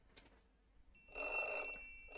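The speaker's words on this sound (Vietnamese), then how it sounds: "Có tiếng chuông điện thoại." A telephone rings in the Otaku's Adventure visual novel game: a bright electronic ringing tone starts about a second in and continues steadily to the end after a brief quiet lead-in.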